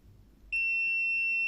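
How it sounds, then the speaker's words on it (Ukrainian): A BSIDE S10 multimeter emits a sudden, steady, high-pitched continuous beep while measuring a 7.5-ohm resistor, sounding alone after a quiet moment. "також він пищить, там нижче 40 Ом він все буде пищати"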